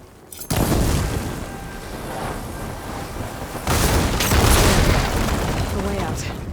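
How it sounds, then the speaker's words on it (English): Blaze barrels explode one after another in the Horizon Forbidden West game when struck with fire ammo, giving two loud, close booms with a crackling, sustained roar of fire and debris after each blast. "Hitting those blaze barrels with fire ammo should do the trick."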